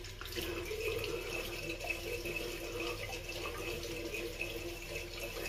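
Tap water runs steadily from a faucet into a sink to wet a Pearl Sleek single edge razor, a continuous close splashing hiss with no talking.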